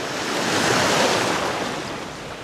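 Ocean waves break on an Australian beach with a steady, loud wash of surf and some wind buffeting the microphone, continuous across the whole stretch with no voices.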